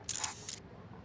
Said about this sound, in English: a loud clicking sound of a camera shutter